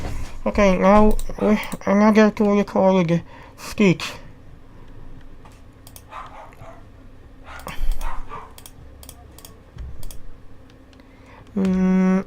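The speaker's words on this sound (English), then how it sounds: "Sorry for my dogs." Dogs bark indoors in a few short bursts, partly under a voice explaining 3D modeling software, with mouse and keyboard clicks in the background.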